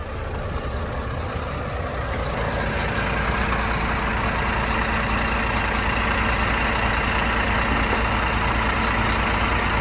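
A truck runs steadily during an exterior inspection, its engine giving a loud, unbroken broadband rumble that stays level throughout, with no voices.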